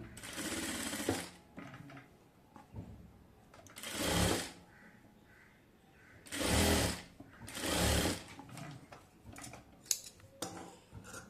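A sewing machine stitches a baby girl's frock with ribbon, running in several short, loud bursts separated by quieter pauses and small handling clicks.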